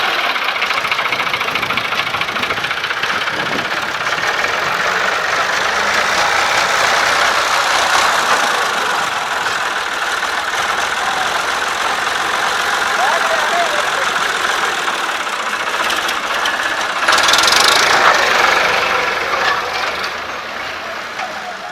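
A combine harvester engine is cranked and run, with a Ford tractor nearby, giving a continuous loud mechanical drone with a rough knocking edge that swells briefly near the end before settling.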